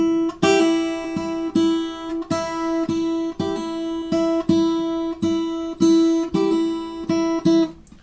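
Acoustic guitar picks the melody from a fingerstyle arrangement, a steady run of plucked notes over a repeating low note, played close and solo.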